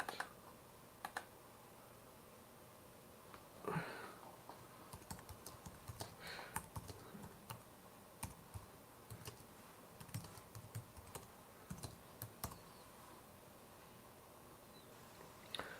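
Typing on a computer keyboard with a faulty space bar, a steady run of quiet, close key clicks in irregular bursts with brief pauses, no voice.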